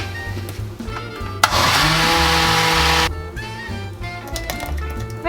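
A kitchen blender roars loud and close for about a second and a half, blending red enchilada sauce, then cuts off abruptly, with quieter clatter and hum before and after.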